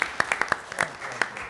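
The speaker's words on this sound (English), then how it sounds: "So I'd like a round of applause for him." A handful of scattered, uneven claps from a small audience at a City of Brigantine meeting, a few sharp individual hand claps spread over a second and a half rather than a full ovation.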